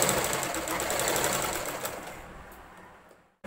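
Sewing machine stitching along the edge of an apron belt made from an old nighty, a fast, steady close-up whirring of needle strokes that runs for about three seconds and then stops abruptly.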